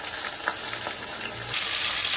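Sliced ridge gourd fries in a covered pan over lowered gas heat, a steady soft sizzle that swells slightly louder toward the end, with no voices.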